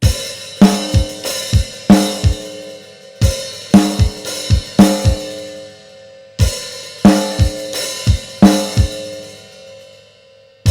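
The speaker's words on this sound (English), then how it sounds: "kick, hi-hat, kick, snare, kick" A drum pattern of kick, snare and hi-hat plays in short grouped bursts with gaps between phrases, crisp and close, including clustered triple kicks, with no voices.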